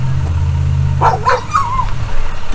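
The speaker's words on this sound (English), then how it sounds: "I was trying to say before my dogs went absolutely berserk" Several dogs barking excitedly in a burst of sharp yelps and barks, close by in a home garage, with a low engine-like hum beneath that fades partway through.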